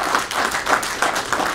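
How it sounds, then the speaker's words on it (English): A short burst of applause, many hands clapping in a quick, uneven patter from a nearby audience at a pinball event speaker session. "please give these guys a big round of applause for showing up and doing this"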